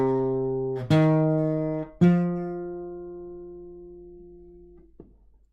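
Guitar playing a short phrase of a few notes one after another, smooth and sustained, each note ringing and slowly decaying, close and quiet with no talking.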